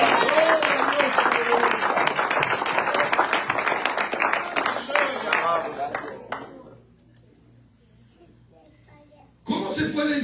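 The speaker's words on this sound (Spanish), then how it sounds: "Damos palmas de alabanza al Señor, hermano." Church congregation clapping in praise during a sermon, dense applause with voices mixed in for several seconds, fading out, then a brief burst of sound at the end.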